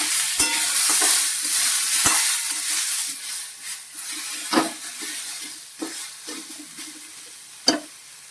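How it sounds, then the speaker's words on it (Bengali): Chilli frying in spices in a pan, a bright continuous sizzle with occasional crisp spatula knocks and scrapes, close and alone. "অল্প লঙ্কা দেবো সামান্য লঙ্কা কষিয়ে নেবো ভালো করে"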